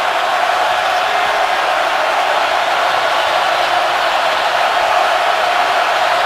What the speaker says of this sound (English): This crowd has been reignited.